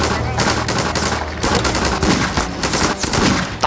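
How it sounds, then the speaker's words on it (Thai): Dense, continuous gunfire from many weapons in the sandbox game Garry's Mod, rapid automatic bursts overlapping loudly throughout with little pause. "โอ้ยยิงกันใหญ่เลย"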